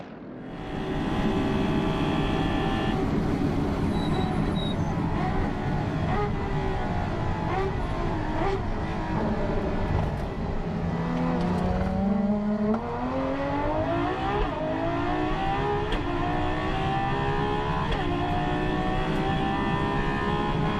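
Several GT3 race car engines from a racing video game drone and whine together through a formation lap at Paul Ricard, including a Bentley, a steady loud roar with rising and falling revs and no talk.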